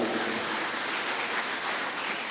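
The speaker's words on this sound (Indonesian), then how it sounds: "Kita beri tepuk tangan." At a public seminar on the history of HKBP health services among the Batak, the audience applauds a panelist, a dense, even wash of clapping from a crowd sustained throughout.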